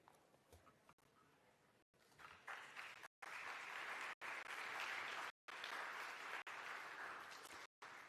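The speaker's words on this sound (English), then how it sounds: "See a little delay in the claps and applauses and stuff" Sustained applause from a conference audience at an AI summit, broad and steady, with brief silent gaps cutting in and out; no talking over it.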